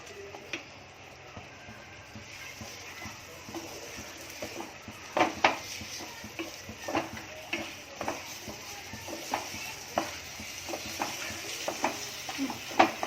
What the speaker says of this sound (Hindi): अब 5 मिनट मैंने मसाले को भूनी अच्छे से।